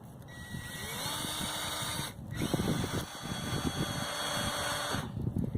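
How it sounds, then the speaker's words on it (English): A power drill whirs steadily as it bores into a maple tree trunk to set a sap tap, pausing briefly and starting again, close and fairly loud over a faint background hum. "take my drill, make sure it's going forward"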